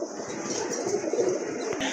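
Domestic pigeons coo softly and continuously, close by, over a steady background hiss.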